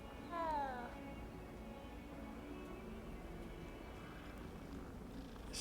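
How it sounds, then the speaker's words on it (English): A cat in the video game Hogwarts Legacy purrs softly while being petted, a low rumbling purr that follows a brief rising meow-like sound and holds steady under a faint background hum. "It purrs."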